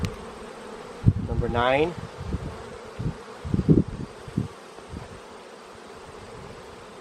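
Bees buzz steadily around an opened beehive during a week-nine inspection, a close swirling hum with rising and falling drones as insects pass near, while someone speaks briefly over it.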